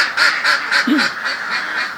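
A crowd of ducks at a duck egg centre in Jakarta, loud, near, rapid overlapping quacks in a steady repeating chatter, with no voices.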